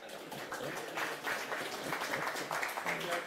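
An audience at a talk about hacking parliament applauds steadily: a continuous wash of many hands clapping, moderately distant and fairly quiet, with no pauses.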